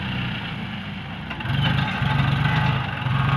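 A new John Deere 5045D tractor, 45 horsepower with a three-cylinder engine and no turbo, idles nearby in a steady low rumble that thickens slightly partway through, with no one talking.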